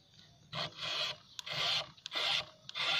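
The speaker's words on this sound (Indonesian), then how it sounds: "untuk mempertajam si mata gergaji ini tinggal digesek-gesek aja" A round file rasps across chainsaw chain teeth while sharpening a saw used to cut a fallen coconut tree, with four steady strokes separated by brief pauses and small clicks, close and fairly loud.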